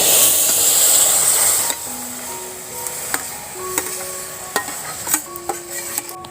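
Raw mango coated in sugar being stirred in a pan with fried cumin, a loud sizzle fading into a steady quieter hiss with repeated sharp scraping clicks of the spoon against the pan.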